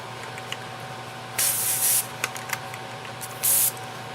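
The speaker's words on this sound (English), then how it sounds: "Then we'll give it our airbrush with lacquer in it." An airbrush spraying lacquer onto a utility knife gives short hissing bursts, two longer sprays and a few brief puffs, over a quiet workshop background.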